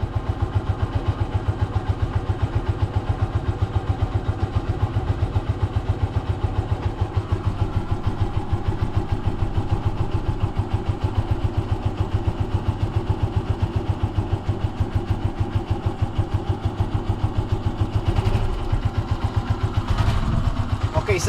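A motorized tricycle engine runs steadily nearby with a low, throbbing idle that continues throughout, carrying a small Yorkie dog aboard; people talk over the engine noise.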